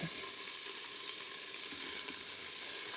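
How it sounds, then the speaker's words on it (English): Sliced onions and peppers sauté in an Instant Pot on its saute setting, giving a steady, close sizzle and crackle that runs unbroken for the whole stretch with no voices. "we're going to saute, it's still on the saute setting, so we're just going to keep sauteing these"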